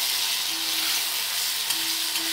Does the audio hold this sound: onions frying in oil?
yes